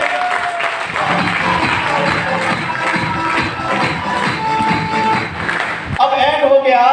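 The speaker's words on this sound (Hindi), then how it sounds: "एक बार जबरदस्त तालियां करते हैं।" An audience claps in applause at an RCM business market-plan seminar, a dense sustained patter of hands filling the room, loud and steady throughout, with a brief shift near the end.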